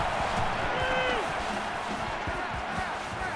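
Stadium crowd in the college football video game NCAA 14, Mississippi State at Florida: a steady, dense roar of cheering fans filling the whole stretch, with a brief whistle-like tone early on.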